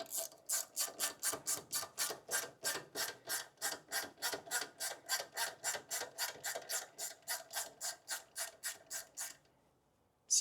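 A ratchet tightens a bolt on a Toyota Tacoma during a CV axle replacement, giving a steady run of about thirty evenly spaced, close clicks that stop just before the end, with no talk.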